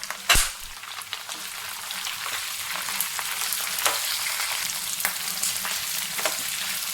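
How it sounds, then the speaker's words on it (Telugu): Green and dried chilies fry in hot oil with a dense, crackling sizzle, broken by a sharp pop at the start and a few stirring scrapes, close by. "ఇవి కొంచెం వేగిన తర్వాత మనము ఈ పచ్చిమిర్చి ఎండుమిర్చి కూడా వేసేసుకున్నామండి"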